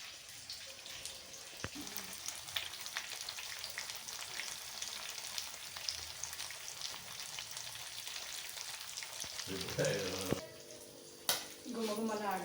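Fish frying on a tawa, Hyderabadi Nizam style, a steady crackling sizzle running under background noise, with a few clinks near the end.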